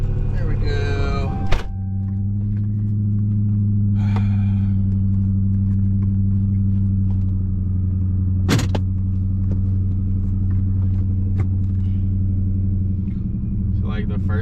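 A Dodge Challenger with an engine swap idles and rumbles steadily from inside the cabin while the driver lets the clutch out, a deep low drone throughout, broken by a couple of sharp thunks and brief rattles.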